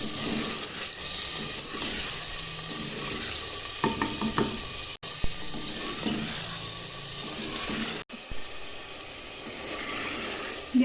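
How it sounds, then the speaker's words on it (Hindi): Chicken being fried and stirred with garlic and ginger paste in a karahi, with a steady close sizzle and intermittent scraping stirs, no talking. "डाल के इसमें इसको मैं अच्छी तरीके से भूनूंगी ताकि चिकन की जो स्मेल है वो ख़त्म हो जाए"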